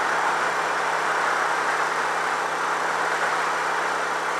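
A Ducati 900SS motorcycle with a Ducati performance exhaust drones steadily and loudly throughout, a constant close engine roar with wind noise.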